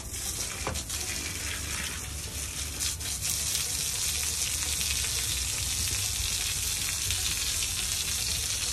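Steady broadband water rush of a hose spraying over a horse during a bath outdoors in the rain, continuous and close with no pauses, no talking.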